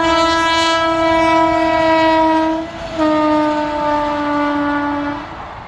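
The 16239 Chikmagalur Yeshwanthpur Express passes near Mallasandra, sounding a loud, close, sustained horn in two long blasts separated by a brief break, with rail rumble underneath.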